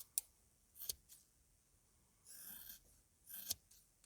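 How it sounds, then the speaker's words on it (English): Scissors trim the edges off a foam sheet at an angle, giving a few soft, close snips separated by quiet gaps in a hushed room. "I'm just going to cut at an angle like this. Basically just cut all of the edges off."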